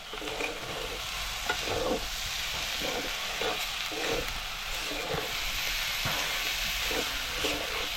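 Salted bangda mackerel masala frying in a pan, a continuous close sizzle with faint scraping stirs recurring at a loose rhythm throughout, no voices over it.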